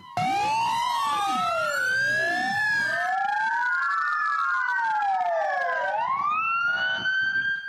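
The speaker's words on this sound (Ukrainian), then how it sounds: "Київ, Харків, Одеса, Черкаси, Запоріжжя в один і той самий час на 5 хвилин увімкнули сирени" Multiple city sirens wailing together in Ukraine for five minutes, their rising and falling tones overlapping continuously, loud and fairly close throughout.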